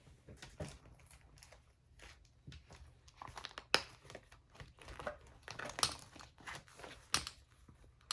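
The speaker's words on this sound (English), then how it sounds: "So I'm gonna go back into my bank envelope and make some change." Paper cash and a paper bank envelope rustle and crinkle close by in quiet, irregular bursts of handling, with sharper crackles now and then and no voice.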